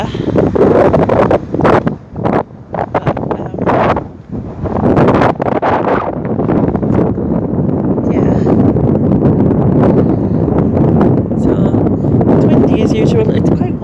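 Strong wind roars steadily against the microphone on an open river bank, buffeting in loud gusts throughout, with rustling underneath.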